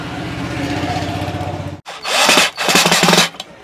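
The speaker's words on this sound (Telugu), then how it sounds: "ఇక స్క్రూలు అనేవి వేసేద్దాం." Screws are driven into a 5.1 home theater circuit board, first as a steady whirring buzz from a power screwdriver, then a sharp break followed by louder grinding bursts of tightening, close by.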